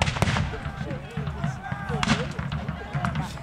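A video game battle rages with artillery and musket fire, giving scattered sharp bangs and crackling shots over a busy rumble, while a voice narrates on top.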